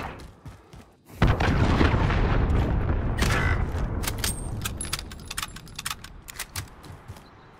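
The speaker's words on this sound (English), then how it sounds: "Missile incoming!" An incoming missile strike in Call of Duty Search and Destroy: a sudden loud explosion bursts after a brief quiet moment, followed by a long rumbling roar and scattered crackling debris that gradually fades.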